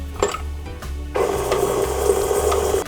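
A stand mixer creams softened butter with brown sugar in its bowl. A short mechanical whir picks up into a steady, loud churning drone with a gritty rubbing texture, close and without talk.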